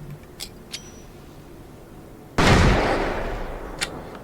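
A flashbang goes off in the video game Alan Wake as a sudden loud blast that fades into a hissing ring over a couple of seconds, preceded by a few faint clicks.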